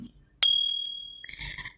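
A small bell rings once with a bright, clear strike that rings out and fades slowly over about a second, followed by a soft rustling clatter, used as a sound effect in a children's story about a camel.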